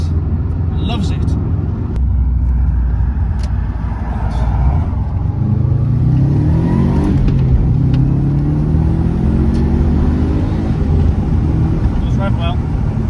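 Subaru Impreza Turbo 2000 Prodrive engine revving while driving on the road, a loud close rumble rising and falling in pitch as it accelerates, with someone talking over it.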